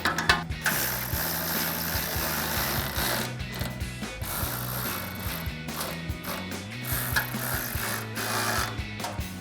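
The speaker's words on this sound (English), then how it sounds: "Then we'll take a 5mm Allen wrench and a 13mm socket to tighten all of those down." A ratcheting 13mm socket tightens bumper bracket bolts on a 2009-2014 Ford F-150, making close rhythmic clicking runs broken by brief pauses, with no talking.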